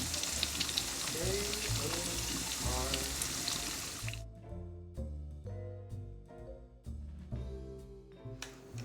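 Stuffed jalapenos fry in a pan until golden and crispy, giving a dense, hissing crackle for the first half that then thins into fainter scattered sizzles and pops, with some quieter background clatter.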